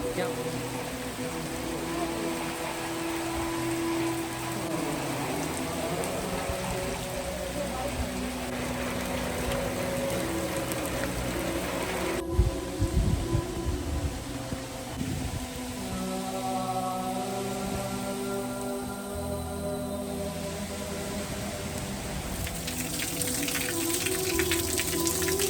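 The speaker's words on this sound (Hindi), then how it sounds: "तेज़ बारिश शुरू हो चुकी है" Heavy rain pours down as water floods into a room, making a steady, dense wash with a faint tonal hum underneath and occasional voices in the background.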